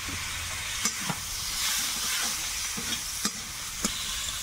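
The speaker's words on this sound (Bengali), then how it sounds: "এগুলো নেড়ে চেড়ে একটুখানি ভেজে নিয়েছি।" Spices, tomato and green chili frying in a pan, a soft steady sizzle with a few distinct scrapes and knocks of a stirring spoon, close and fairly quiet, no voices.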